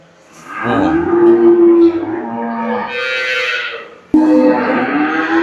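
Dairy cows and heifers ready to calve at a cattle sale low and moo loudly nearby, with two long drawn-out calls, the second starting abruptly after a brief gap.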